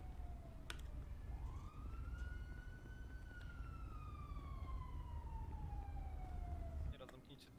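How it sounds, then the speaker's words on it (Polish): A single emergency siren in the video game GTA V wails, rising then slowly falling in pitch over a steady low rumble, fairly distant and continuous. "Już jadą, słychać sygnały."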